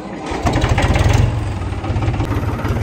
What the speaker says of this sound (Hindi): ट्रैक्टर स्टार्ट हो गया